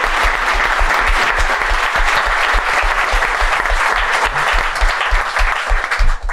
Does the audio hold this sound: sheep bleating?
no